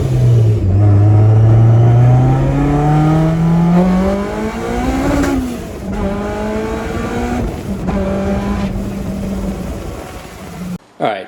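Honda S2000 sports car engine revving hard and accelerating, a loud rising whine that climbs through gears with brief shifts, close and continuous over about eleven seconds.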